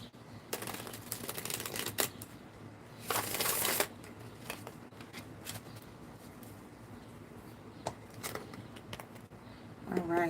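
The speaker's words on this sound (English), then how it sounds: "One more shuffle." Tarot cards riffle and shuffle in several quick bursts, with soft tapping and handling noises between them, close up in a quiet room.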